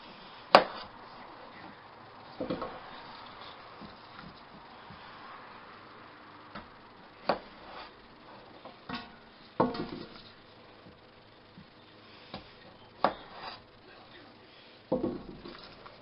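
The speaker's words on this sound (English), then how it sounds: "I might cut these ones in half" A knife chops through seafood-boil ingredients on a cutting board, with sharp, spaced thuds at irregular intervals and quiet handling noises in between.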